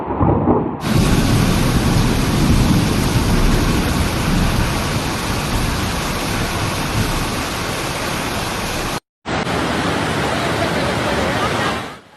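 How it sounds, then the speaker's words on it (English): Torrential rain falling during severe flooding in southern China, a loud, steady roar of water that runs unbroken for the whole stretch apart from one brief cut near the end. "Multiple provinces have been affected by torrential rain ranging from heavy to extreme levels."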